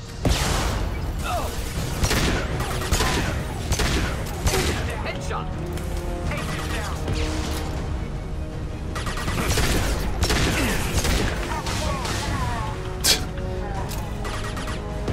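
Gunfire in Mass Effect 2, a steady stream of loud shots and mechanical weapon clatter running throughout, mixed with game music and effects, with a voice talking over parts of it.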